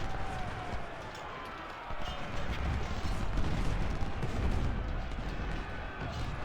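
Cannon and artillery fire from a Civil War battle in the Ultimate General strategy game, a dense continuous rumble of booms and musket crackle, loud and steady throughout with no clear gaps.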